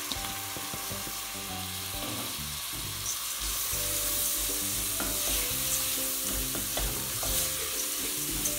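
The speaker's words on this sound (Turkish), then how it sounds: "Bir iki dakikada bakliyatlarla beraber kavuruyorum." Rinsed legumes sautéing in a pot for ezogelin soup, with a steady sizzle and repeated clattering, scraping stirs against the pot, close and continuous with no voices.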